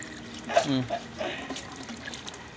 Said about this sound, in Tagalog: Eto, naghuhugas ng pinggan na naman.